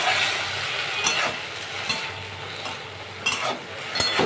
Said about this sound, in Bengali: এবার ভালো করে কিন্তু ভেজে নিই